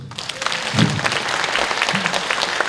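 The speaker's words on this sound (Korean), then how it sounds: "박수 한번 쳐주세요." Audience applause in a school seminar hall, a steady wash of many hands clapping throughout, moderately loud and continuous with no talk over it.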